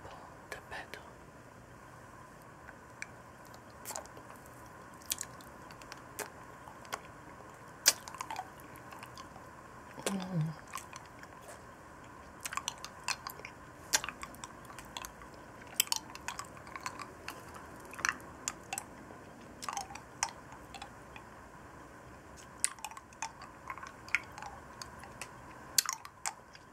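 A Mexican milk caramel lollipop is sucked and licked close to the mic, producing faint wet clicks, smacks and mouth sounds scattered irregularly over a quiet hiss, with soft whispering at times.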